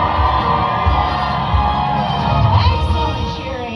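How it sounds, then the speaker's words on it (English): Crowd cheering at the Universal Studios Hollywood animal actors show, a loud sustained mix of shouts, whoops and children's yells rising briefly toward the end. "Excellent cheering."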